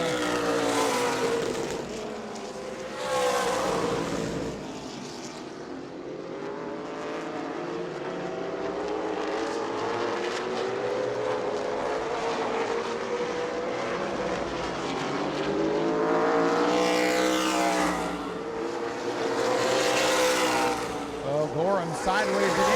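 Race cars in a Sunbelt Series event at New Smyrna roar around the track, engines rising and falling as they pass in waves of loud whining revs, with a commentator talking over the continuous racing noise.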